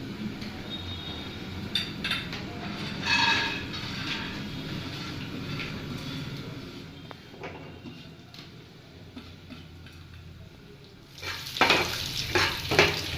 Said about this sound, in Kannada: ಡ್ರೈ ಫ್ರೂಟ್ಸನ್ನು ಈಗ ತುಪ್ಪದಲ್ಲಿ ಹುರಿಯೋಣ.